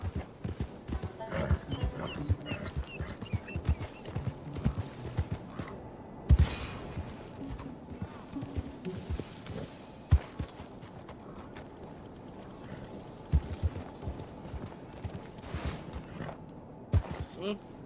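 Horse hooves clip-clop steadily at a riding pace in Red Dead Redemption 2, a continuous rhythmic trot under occasional spoken urging from a rider, with a few louder thumps.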